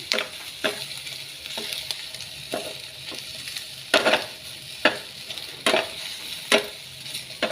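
Chinese sausage (kun chiang) frying in a pan without oil, a continuous crackling sizzle broken by repeated sharp scraping strokes of a utensil at close range, with no talking.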